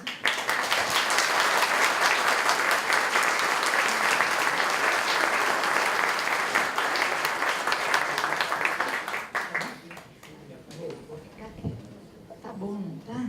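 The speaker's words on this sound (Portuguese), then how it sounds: "Vamos recebê-la com uma salva de palmas" Audience applause welcoming a speaker, dense steady clapping for about nine seconds that then thins out and fades into scattered claps and quiet room noise.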